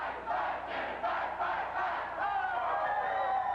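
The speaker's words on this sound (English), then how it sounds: "the night the crowd cheered in the lobby" A crowd cheers and shouts together in a hotel lobby on the night of the 1982 Orange Bowl. The roar stays loud and sustained, with overlapping whoops swelling throughout.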